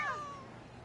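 Cat meows from Genshin Impact, a single clear rising-then-falling meow close up, fading out over under a second with no talk.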